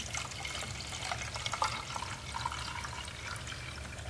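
Warm and cold water poured into a box, a continuous splashing, trickling pour held steady throughout at moderate loudness with no talking.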